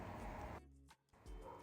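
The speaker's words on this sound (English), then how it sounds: "And if you hear a crazy dog barking, well, that's my dog" A pet dog barks a few sharp times at close range indoors, with a brief gap of near silence between the barks.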